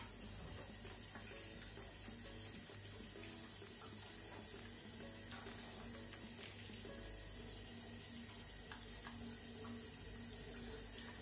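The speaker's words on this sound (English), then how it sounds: "my tap is still running" Water runs steadily from a bathroom tap during face washing, a faint, constant hiss that continues without a break.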